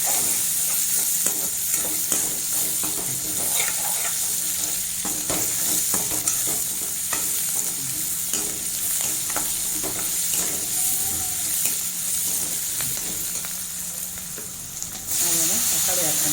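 Small onions sizzle in hot oil in a pan for an egg kurma, a dense, steady crackling hiss with frequent stirring scrapes throughout.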